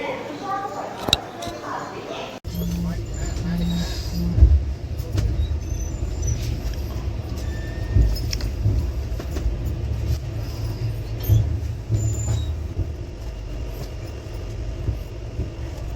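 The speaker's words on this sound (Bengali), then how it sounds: "আমাদের ট্রেন ছেড়ে দিল বিজয়ওয়াড়া জংশন" Steady low rumble and rattle of the Howrah–Tirupati Humsafar Express pulling out of Vijayawada Junction, heard from inside the carriage, with a continuous rolling drone and occasional clunks.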